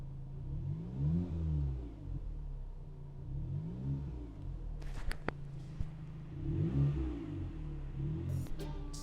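A Porsche Macan engine revs up and falls back several times in smooth, rising and falling sweeps, heard at a moderate distance with a few clicks in between.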